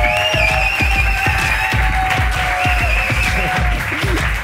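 Studio audience applauds a guest arriving on a talk show, dense steady clapping with a few cheers, loud and close throughout, with a host's voice faintly underneath.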